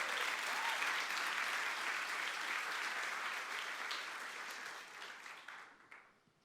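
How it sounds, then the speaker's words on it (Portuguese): A church congregation claps steadily, a dense wash of many hands that holds level for several seconds, then thins and fades out toward the end. "Dê uma salva de palmas ao Senhor por isso."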